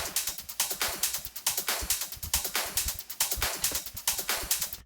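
Uplifting trance drum loop with extra hi-hats layered in, dense, bright, rapid hat ticks riding over a steady, punchy pulse, loud and continuous with no voice.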